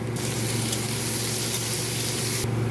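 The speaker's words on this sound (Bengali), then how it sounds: "একসাথে ভাজবো পেঁয়াজ আর আলু" Onion and potato frying together in hot oil with dried red chili, bay leaf and whole cumin, giving a steady, loud, continuous sizzle with a low hum beneath and no voices.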